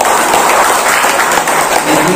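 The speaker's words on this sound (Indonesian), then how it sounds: "Tepuk tangan dulu." A room of attendees at an education official's briefing breaks into continuous applause, dense and loud clapping from a sizeable crowd throughout.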